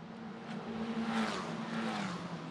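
Race car lapping a circuit, the engine note rising and falling as it runs past, with a brief tire-squeal edge midway and a steady buzzing drone; no talk.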